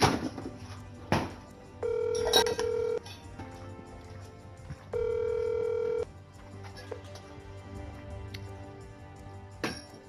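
Phone call with repeated steady ringback tones in two long bursts, interrupted by short electronic beeps and clicks, fairly close and clear.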